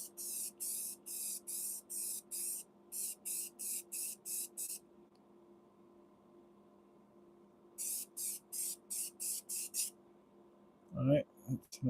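Can of spray paint laying a coat on band props, sharp hissing bursts in rapid pulses, a long run, a pause with low room hum, then another run of short sprays before a brief clunk.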